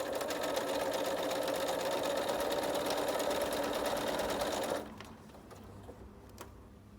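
A sewing machine runs steadily, stitching quilt block seams, a loud continuous mechanical whir for about five seconds before it stops abruptly, leaving a quiet room with a few faint clicks.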